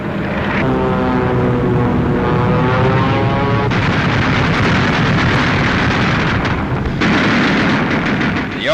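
Anti-aircraft flak bursting around WWII bombers during a 1943 daylight raid on Emden, Germany: loud, close, heavy booming bursts that break through a constant deep propeller drone.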